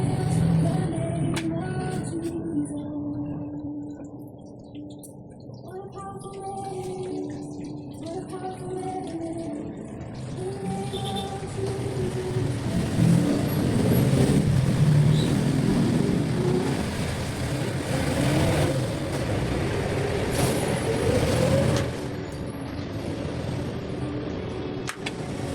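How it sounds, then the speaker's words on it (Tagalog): Roadside highway traffic with motorcycles, jeeps and tricycles passing near a school, a steady engine rumble that rises and falls as vehicles go by, fairly close but not loud, with no talk. "sorry kung maingay yung motor, jeep, tricycle kasi sa highway lang kami nakapwesto."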